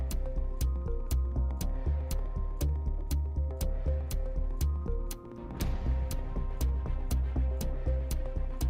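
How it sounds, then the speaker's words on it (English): Tense game-show style music with a steady ticking pulse and low sustained bass, looping continuously at an even loud level with a brief dip midway before the rhythm resumes. "Tension music kind of sounds like this."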